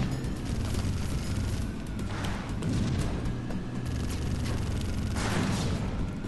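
Gunfire and explosions in the video game Halo Combat Evolved come as booming blasts and bursts of shots, a couple of heavy bangs standing out over a constant rumbling battle background.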